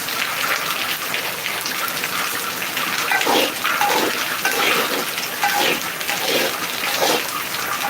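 Light rain falls steadily, a continuous soft patter and hiss with scattered louder drips, close by and without talk.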